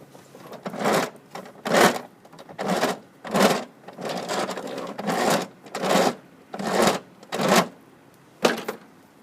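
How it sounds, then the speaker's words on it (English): Front wheel of a worn 2011 John Deere JS28 lawn mower being turned by hand, giving a regular series of about eleven scraping, grinding rasps with short gaps between them, close and clear with no voices. "If you can hear this front wheel here, I'll turn it."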